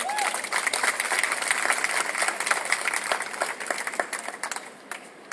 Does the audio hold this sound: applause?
yes